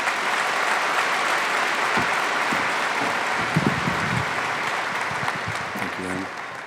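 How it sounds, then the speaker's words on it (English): A graduation audience at Rock Canyon High School applauds in a dense, continuous wash of clapping that holds steady throughout, with a few louder claps and faint voices surfacing near the end. "help me give our superintendent, Erin Kane, a very warm round of applause as she joins me here on stage"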